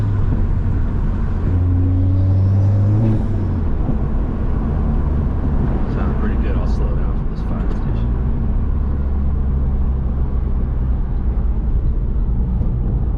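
A car with a Cobb NexGen Stage 2+ tune drives with the windows down, giving a loud, steady engine and road rumble with rising tones under ongoing conversation.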